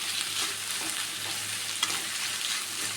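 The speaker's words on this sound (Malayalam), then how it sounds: "നമ്മൾ വെച്ച സവാളയും നാളികേരമൊക്കെ നേരിയതായിട്ട് ഫ്രൈ ആയി തുടങ്ങിയിട്ട്" Sliced onion and coconut fry in a pan, giving a steady, dense sizzle with a soft stirring scrape, close and even throughout, with no voices.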